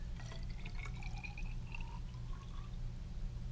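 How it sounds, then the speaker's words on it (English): Salt water is poured into a container for a school purple dye experiment, a soft, faint trickle with light splashing plinks over a low background hum. "And then add 30 milliliters of the right concentration of salt water."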